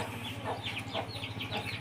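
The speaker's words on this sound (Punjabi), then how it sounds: "ਕੁਕੜੀ ਨਾਲ ਬੱਚੇ ਇਹਦੇ" A hen with her chicks clucks softly in a rural yard, with thin repeated peeps over a steady low background hum.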